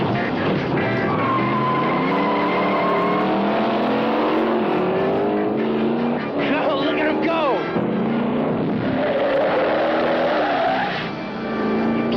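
Drag racing cars, one of them the 13 car, roar and accelerate hard with rising engine whine and tire squeal, loud and continuous, while voices talk over the racket.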